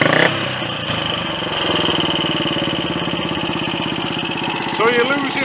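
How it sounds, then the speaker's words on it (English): A Royal Enfield Olympic 250 motorcycle engine ticks over at an overly fast idle, a steady close, loud rhythmic putter running throughout with a brief rise near the end. "you're losing a load of your engine braking there because it's ticking over far too fast"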